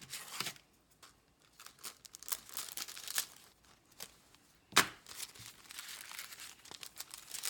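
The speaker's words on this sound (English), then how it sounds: "we're gonna cut the bag." Scissors cutting through a plastic bag while making marshmallow bears, crinkly rustling with sharp snips and one loud crackling burst, heard close with no talk.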